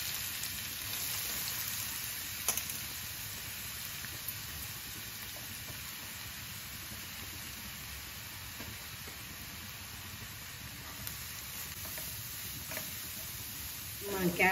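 Carrots for carrot halwa fry in ghee, giving a soft continuous sizzle with faint scattered pops and clicks.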